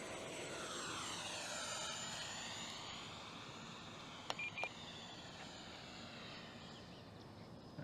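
An FMS 64mm EDF F-16 Fighting Falcon model jet makes a full-throttle pass, its ducted fan whining loudly and steadily with a sweeping Doppler shift, and a few faint beeps partway through.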